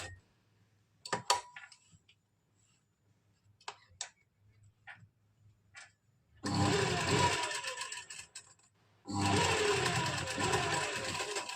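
A sewing machine with a single foot stitches a lining suit. Clicks and handling noises come first, then two long, loud runs of fast mechanical stitching, the second after a short pause.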